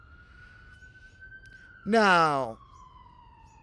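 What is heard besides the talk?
emergency vehicle sirens in the distance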